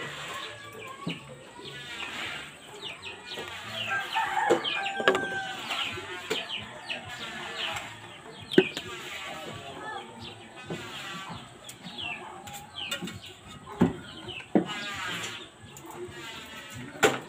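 Chickens clucking around a house still under construction, with busy close clucks and scattered clicks and knocks throughout, plus faint voices now and then.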